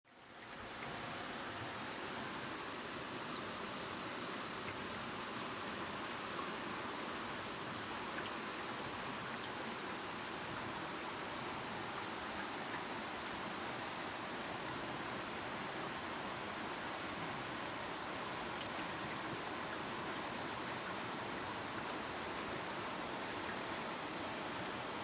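Floodwater from a stream running through a flooded back garden makes a steady, full rushing roar like a waterfall, constant and close for the whole stretch with no voices.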